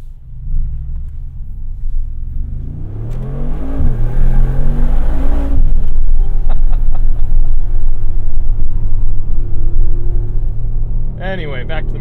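2020 Mercedes-AMG G63 accelerating hard as it pulls onto the road, a loud, rising engine roar that builds over several seconds then holds as a steady heavy rumble.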